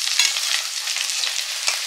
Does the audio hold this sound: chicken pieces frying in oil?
yes